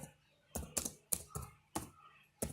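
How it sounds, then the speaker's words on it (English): Keys on a computer keyboard are struck in short, sharp clusters of clicks, about six quick bursts separated by brief pauses, crisp and close, as a fastboot command is typed. "You need to type this command."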